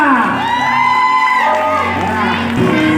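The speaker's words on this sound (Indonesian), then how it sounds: "Tepuk tangan untuk yang nomor 2." An audience at a teacher coordinator election event in Cianjur cheers and shouts loudly for contestant number two, voices whooping and calling together in a dense, close crowd roar throughout.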